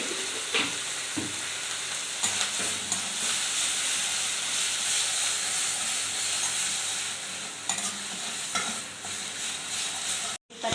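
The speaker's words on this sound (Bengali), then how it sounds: "কচু পাতাটা দিয়ে ভালো করে সুন্দর করে এটাকে ভেজে নেব।" Taro leaves sizzling steadily in a hot pan, a continuous loud fry hiss with occasional stirring scrapes and clinks, close and alone without speech.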